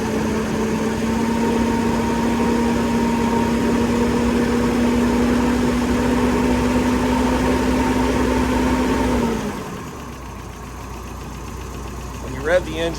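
A 1985 Toyota SR-5 pickup's 22RE engine idles with a low, even hum for several seconds, then cuts off abruptly, leaving quiet background noise and a faint clatter.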